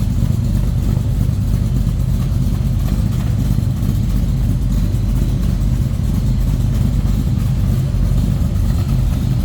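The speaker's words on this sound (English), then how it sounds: "That baby's got a nice exhaust note to it." A 1969 Chevrolet Camaro RS Convertible engine idles loudly and steadily close by, a deep rumbling exhaust note that holds even throughout.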